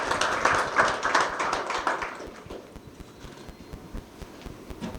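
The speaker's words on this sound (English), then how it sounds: "Let's give him a round of applause," Applause from an audience at an agricultural financiers' breakfast, a burst of clapping that is fairly full at first, then thins out into scattered claps.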